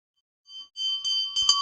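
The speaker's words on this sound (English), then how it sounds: "please ring the bell as you do so" A small ritual hand bell rung during an incense offering in a Hindu worship program, with bright sustained ringing tones that start softly and grow into steady, repeated clanging near the listener.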